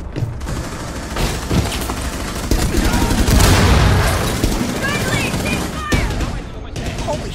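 Gunfire in Rainbow Six Siege: rapid bursts of close shots cracking over a steady loud din, with a sharp report near the end and players talking over it.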